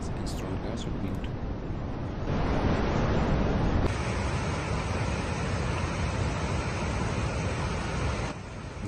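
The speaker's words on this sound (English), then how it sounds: "a severe storm erupted in Dubai, United Arab Emirates, accompanied by heavy rains and strong gusts of wind." Heavy rain and strong gusting wind during a severe storm in Dubai form a dense, steady roar of broadband noise that swells midway and fills the whole clip.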